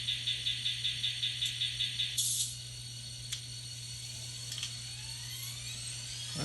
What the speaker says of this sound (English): Right here, prime mover firing up.